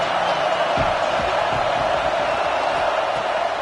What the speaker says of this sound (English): The crowd gets behind this defense.